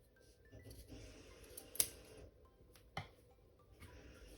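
Scissors cutting across a paint sample card to trim a bookmark, two distinct quiet snips against a soft, faint background of handling rustle.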